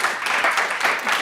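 Short round of audience applause at a coffee house music session, a dense wash of many hands clapping at steady loudness with no talk over it.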